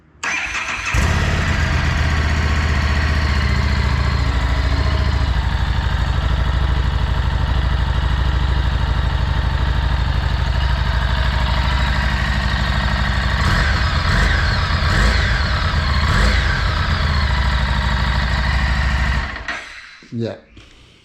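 A Harley-Davidson Street 500 motorcycle on its stock exhaust starts and idles steadily with a thin, buzzy tone, loud and close, then cuts off near the end; a voice talks over it briefly.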